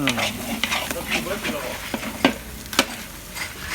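Fried rice being stir-fried in a large wok, with a steady oily sizzle under repeated sharp scraping and clanking strokes of a metal spatula against the pan, close and busy throughout, no voices.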